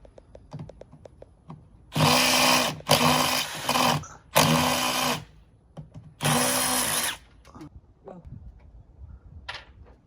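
A power drill runs during a backyard solar light installation, giving four loud, close bursts of two to three seconds each separated by short pauses, with softer clicks and handling noises around them.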